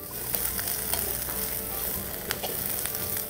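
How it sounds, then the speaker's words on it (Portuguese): Dried salted beef (carne seca) frying in butter in a pan, a steady soft sizzle with faint crackles and a few sharper pops, heard close and alone. "Porque ela está fritando na manteiga."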